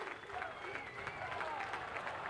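A basketball crowd in a field house during a 1980 CIS men's game, Brandon vs Lakehead, cheers and claps in a steady, wild roar while a commentator talks over it.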